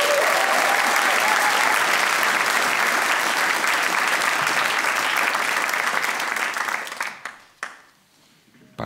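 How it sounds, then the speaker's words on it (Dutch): A studio audience on a live Flemish TV show applauds guitarist Frank van der Linden with loud, sustained, dense clapping that fades out abruptly near the end, leaving a few scattered claps and quiet. "Mag ik een daverend applaus voor Frank van der Linden!"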